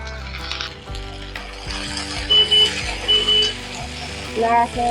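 Okra frying with salt in a pan: a steady sizzle with intermittent stirring scrapes, heard close, under a voice and a faint melody.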